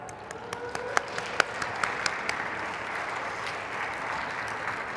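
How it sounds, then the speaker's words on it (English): A room full of people at a student panel event breaks into steady applause. A few louder individual claps stand out early, then the clapping settles into an even, sustained wash. "So I just want to give you all a moment to have a round of applause and celebrate you."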